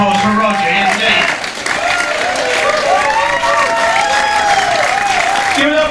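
An audience applauds a singer at a tribute night. Loud, dense clapping and crowd noise fill the room throughout, with voices and cheering mixed in.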